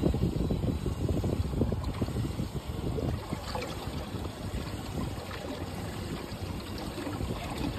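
A boat's trolling motor running near a bridge, a steady low drone under constant water wash and wind buffeting, continuous and moderately loud throughout.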